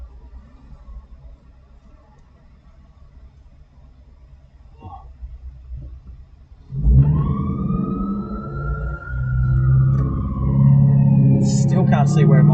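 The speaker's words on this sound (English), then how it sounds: "Where are you, emergency vehicle?" An emergency vehicle siren on an Australian road, heard from inside a moving car, starts about halfway through as a loud wailing tone that sweeps slowly up and down over engine and road rumble.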